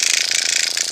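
A facial dermaroller's depth dial is turned to adjust needle length, giving a close, steady run of fine rapid ratcheting clicks throughout.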